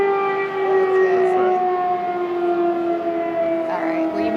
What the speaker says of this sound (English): the air raid sirens start up again